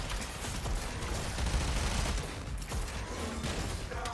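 Dense, continuous automatic gunfire from the video game Warframe rattles steadily and loudly for about four seconds, with a heavy low rumble beneath the shots and no clear pauses.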